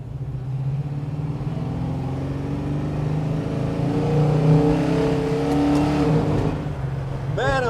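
A Gasser hot rod's engine revs while driving, a loud low rumble climbing and falling through gears, with a voice speaking over it near the end.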